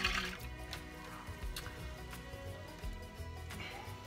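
Milk poured into a cooking pot, a continuous liquid splash and gurgle at close range, fairly steady with a few brighter spurts.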